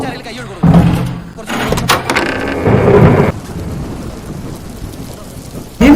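Heavy rain hisses steadily with a loud rumbling surge partway through, and voices speak briefly over the downpour.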